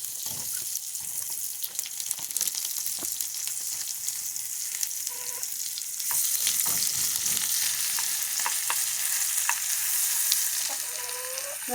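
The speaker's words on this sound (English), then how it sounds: "I see my butter's turning a little bit brown because my heat's too high." Butter sizzles and crackles in a hot pan on high heat, a steady frying hiss with scattered pops and faint stirring clinks that grows slightly louder midway, with no voices.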